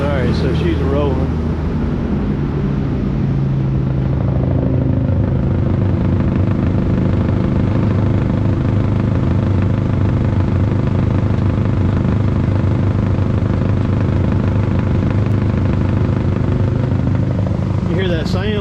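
A Bandit wood chipper runs with its clutch engaged inside a building, a loud, steady, deep engine drone with a rolling mechanical rumble that continues without a break and without any talk.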